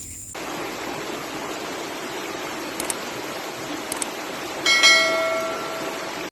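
Creek water flows steadily at a rural stream, a broad continuous rushing wash that stays even throughout, with a few brief clinks and a short tonal sound near the end.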